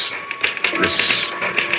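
Rapid typewriter keys clatter in an uneven run of crisp taps during a radio drama, with no talking over them.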